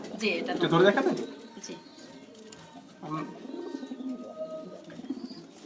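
Pigeons in a farm with large cages give soft throaty coos in short bursts, a louder cluster at the start and more further on, while people talk nearby.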